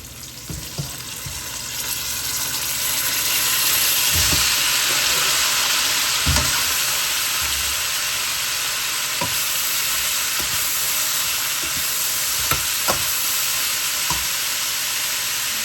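Broccoli stir-fries with kiniing smoked meat in a steady loud sizzle that swells and holds, punctuated by scattered knocks and scrapes of stirring against the pan, with no talking.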